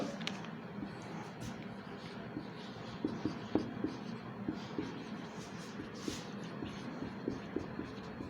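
A pen scratches steadily across paper as notes are written by hand during a lesson on Rajasthani papier-mâché craft, a quiet, close, continuous scribbling with small taps between strokes.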